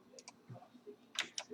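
Computer mouse clicks on a Windows PC running Design II process software, a few quick faint taps spaced apart in a quiet room.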